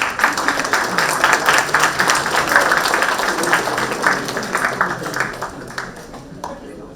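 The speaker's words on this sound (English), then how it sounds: "A round of applause, please." An audience applauds at a climate action plenary session, giving sustained clapping that is loud at first and then gradually thins and fades.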